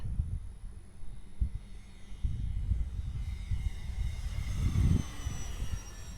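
A remote-controlled F-86 model jet makes a low pass, its engine a steady whooshing roar that swells as it approaches and passes nearby, with no talking.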